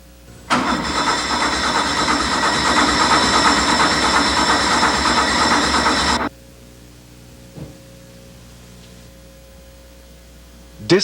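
A 1984 Porsche 911 engine cranking during a dwell adjustment, a loud, steady churning that stops abruptly after about six seconds, followed by near quiet with a faint click.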